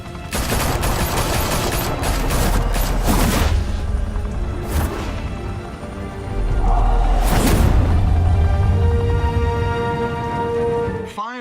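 Gunfire in Batman: The Telltale Series, with dense overlapping bursts of automatic weapons, loud and close, and heavy booms at several points across the scene, punctuated by whooshes and continuing steadily throughout.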